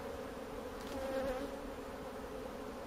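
Honey bees buzz on a hive frame, a steady, close drone that holds at an even level throughout without pause.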